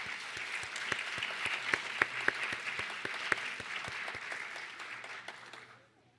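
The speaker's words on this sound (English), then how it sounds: "Please give them a final round of applause." A smaller audience claps for award winners at a 3-Minute Thesis event, with distinct individual claps audible in a steady run that fades out near the end.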